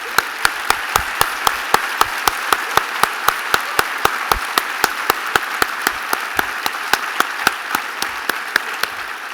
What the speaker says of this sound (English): I would like to take this opportunity to ask that we join together in a big applause to Ms. Eleanor Stevenson